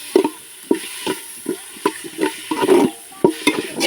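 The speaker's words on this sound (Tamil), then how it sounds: "இப்போ நல்லா கிண்டி விட்டுக்கலாம்" A spoon stirs tomatoes and ginger-garlic paste in a pan for country chicken curry, with repeated sharp scraping knocks against the pan between soft sizzling, close and fairly loud, no talking.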